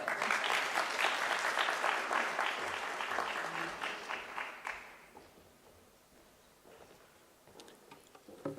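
Applause from a conference audience at a teaching and learning event, a dense, steady round of clapping that fades away after about five seconds, leaving a quiet room with a few scattered claps.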